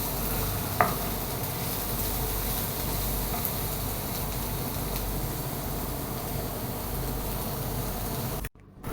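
Onions frying in a pan for squid masala, a continuous dense sizzle with a brief sharp tick early on and a short cut near the end, no talking.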